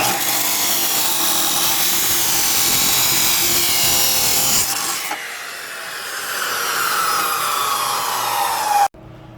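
A power tool cuts threaded rod into pieces during a tower install. The loud, harsh cutting roar runs steadily, then the motor whines and winds down before cutting off abruptly near the end.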